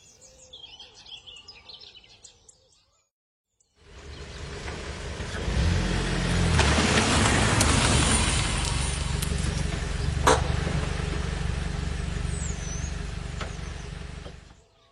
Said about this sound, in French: Le long de la grande route, une voiture vient de s'arrêter.